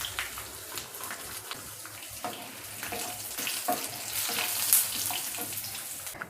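Urad dal, chana dal and five garlic cloves frying in sesame oil, a steady close sizzle with small crackling pops and a brief stirring scrape, no voices.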